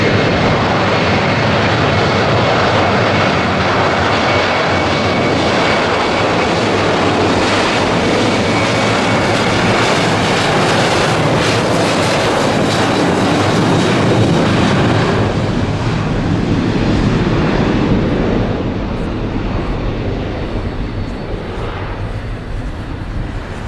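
A jet airliner roars at Madeira Airport on the coast, a loud, sustained broadband engine rush close by that slowly eases toward the end, with wind noise beneath it.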